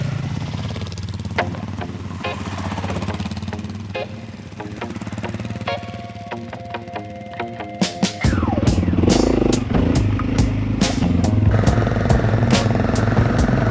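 Honda CRF300L motorcycles ride through hot Croatian countryside, the engine a steady rumbling drone with clattering bursts, then growing louder and rougher as revs rise near the end, no voices.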